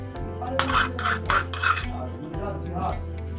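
Fried garlic being mixed into a vegetable sandwich filling in a bowl, a spoon scraping and knocking against the dish in quick repeated strokes, close and fairly loud, no voices.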